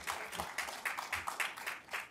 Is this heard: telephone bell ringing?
no